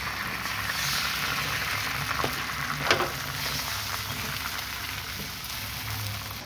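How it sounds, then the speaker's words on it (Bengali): An egg fries in a little oil in a frying pan with a soft, continuous crackling sizzle, moderately close. A brief clink of a utensil comes partway through. "ডিম দিয়ে দিব, ডিম দিয়ে চারিদিকে করে দিব।"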